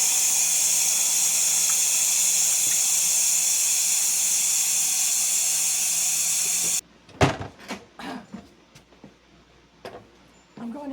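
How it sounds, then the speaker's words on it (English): Steam hisses loudly and steadily from a pressure cooker's release valve after the unit is switched off, while lima beans cook in apple cider vinegar. The hiss stops abruptly partway through, leaving scattered clicks and knocks. "Unit off, I'm going to release the steam off this."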